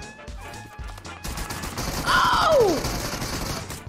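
SKS rifle gunfire rings out in a video game during a lobby fight, a quick burst of shots mixed with game effects while a voice exclaims over it.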